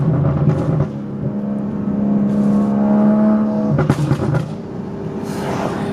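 BMW F22 M235i exhaust burbling loudly as the engine revs and drops, with sharp crackling pops and backfires in bursts near 0.5, 2.5 and 4 seconds, close and with no voices.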